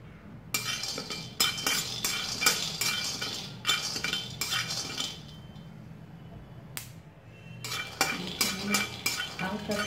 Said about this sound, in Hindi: हम गैस में कढ़ाई बैठा दिए, तो हल्का से बादाम को थोड़ा फ्राई कर लेते हैं।